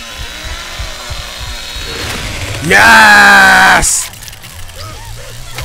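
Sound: Leatherface's chainsaw running and stalling, Texas Chainsaw Massacre video game

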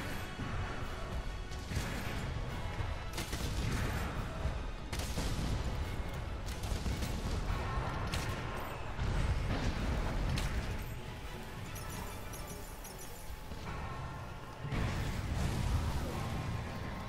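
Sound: heavy bowgun firing fragment (cluster) ammo, Monster Hunter World Iceborne video game

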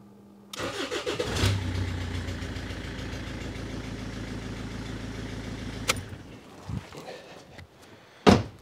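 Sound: Rover 75 engine starting and running

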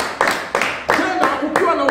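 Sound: audience clapping

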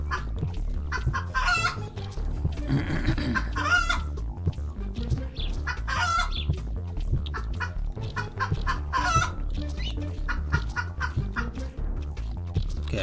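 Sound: chicken clucking in the video game Superbugs: Awaken

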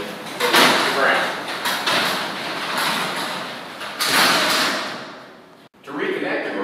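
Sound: garage door pulled down manually to the ground

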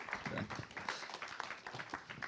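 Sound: audience applause

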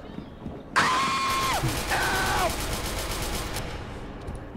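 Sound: gunfire in video game SCP: Secret Laboratory

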